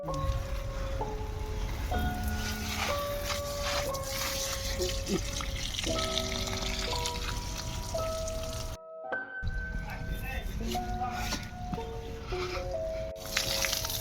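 Water hisses steadily from a motor-pump-driven hose in a forceful continuous spray over plants, with a melody of music playing over it throughout.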